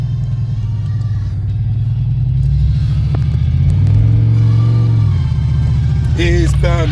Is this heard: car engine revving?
yes